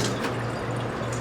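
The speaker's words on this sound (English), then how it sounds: "And of course I've got to rinse again." Tap water runs steadily while pot roast meat is rinsed, a continuous close splashing rush with no breaks.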